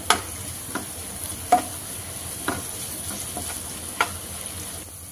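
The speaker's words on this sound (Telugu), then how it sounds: "కొద్దిగా పసుపు, అల్లం వెల్లుల్లి పేస్ట్ వేసుకొని పచ్చివాసన పోయే వరకు ఫ్రై చేసుకోవాలి" Turmeric and ginger-garlic paste fry in a pan while a curry is cooked, giving a soft, steady sizzle. A few sharp spoon scrapes and stirring knocks come at irregular intervals.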